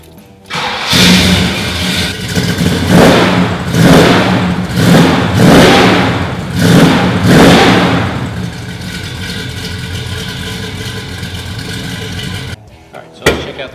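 A 1969 Chevrolet Chevelle SS396 V8 cranks and fires, then gives a run of loud, evenly spaced revs close by before settling into a steady idle, with a brief knock at the end.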